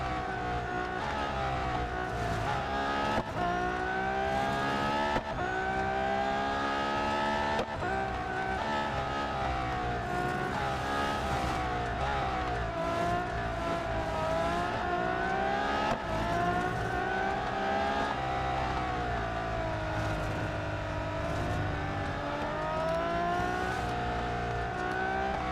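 A Lotus Evija electric hypercar laps a track in a racing game, its high whine rising and falling steadily through gear-free acceleration and corners, loud and continuous.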